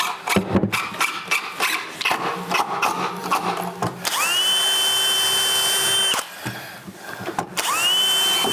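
Power drill driving screws into a wooden ladder being built indoors, a run of short rattling bursts followed by two longer steady whining drives with a brief pause between, close and loud.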